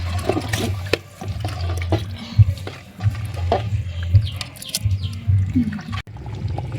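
Tamarind rice mixture being stirred in a pan, giving wet, sloshing scrapes and stirs in a rough irregular rhythm, close by and fairly loud, with no talking.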